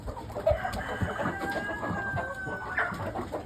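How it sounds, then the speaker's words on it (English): Rhode Island Red chickens cluck close by in a barnyard pen, with a drawn-out crowing call rising through the middle amid scattered soft clucks. "Next pen you're going to get to will be our Rhode Island Reds."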